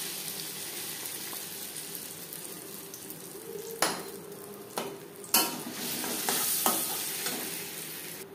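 Lentil paste for hing kochuri filling fries over a low flame in a pan with hing, a soft steady sizzle under several sharp scraping stirs and utensil clinks, no voices.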